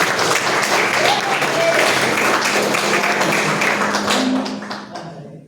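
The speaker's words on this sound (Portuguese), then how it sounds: "Dá uma salva de palmas" A church congregation applauds during a Sunday worship service, dense steady clapping filling the room for several seconds before tapering off at the end, with faint voices mixed underneath.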